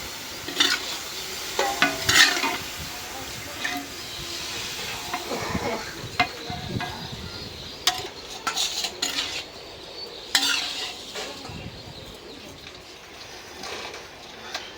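Food is stirred and fried in a pan in a village kitchen, with repeated scraping of a utensil against the metal, light clinks and a soft background sizzle, fairly close and steady over the whole stretch.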